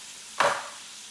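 A short burst of sizzling as chopped vegetables hit a hot frying pan for Mexican picadillo with ground beef, rising sharply then fading back to quiet within a second, close and alone.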